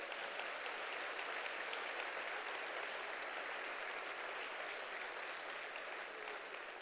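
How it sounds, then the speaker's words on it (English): An audience at a power summit in 2024 applauds steadily, a dense and even wash of clapping that holds at the same level throughout with no talk over it. "Give yourselves a hand of applause."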